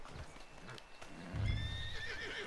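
A male horse in the Red Dead Redemption 2 video game whinnies in a rising, drawn-out neigh while its hooves clip-clop steadily underneath, heavier thumps joining midway, close and moderately loud with no talking.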